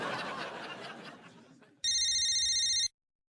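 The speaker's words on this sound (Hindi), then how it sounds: "फोन।" Soft laughter fades out, then an electronic telephone rings once in a steady, bright trilling burst of about a second before cutting off to silence.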